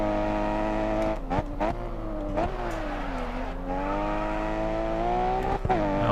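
A race car in GRID Autosport brakes hard into a corner and then accelerates out, its loud steady engine drone dipping and swelling in pitch, with brief clicks and bumps along the way.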